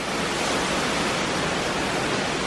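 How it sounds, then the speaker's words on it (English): Strong hurricane wind gust during Hurricane Irma along a canal in Jupiter, Florida, a loud, steady roar of rushing air that fills the clip without letting up. "I think there's about to be a gust coming down the canal a little bit."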